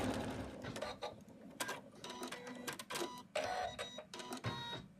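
Embroidery machine stitching fabric for an in-the-hoop snowman stocking, a close rapid mechanical chatter of needle strokes in uneven bursts with rattling clicks, no voices.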